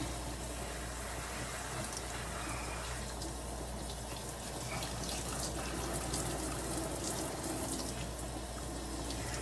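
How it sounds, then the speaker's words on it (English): Continuous cool water pouring from a faucet while rinsing hair, a steady rushing hiss that holds for several seconds with no voices. "Rinse it out with cool water."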